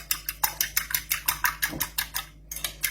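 Eggs beaten by hand in a bowl, with rapid, regular clinking strokes about four per second, close and bright, briefly pausing near the end before resuming; no speech.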